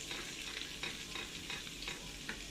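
Garlic frying in cow ghee, about to be poured over okra, gives a steady, close sizzle with soft scraping from stirring throughout.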